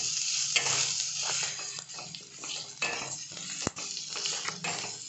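Rice balls being stirred with a sprinkle of salt in a pan, with steady scraping and clinking of a spoon against the metal over a soft sizzle, close and continuous with no talking.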